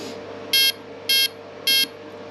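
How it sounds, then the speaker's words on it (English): An electronic speed controller on an RC helicopter sounds its programming mode as three identical high, clean electronic beeps, evenly spaced about half a second apart, loud and close over a low steady hum. "Each one of those beeps that you can hear on the ESC are basically telling me what programming mode that it's in"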